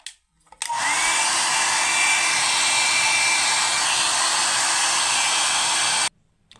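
A hair dryer blows on fresh paint on a sacred art statue, switching on after a brief quiet moment, then holding a loud, steady whooshing whine for about five seconds before cutting off abruptly.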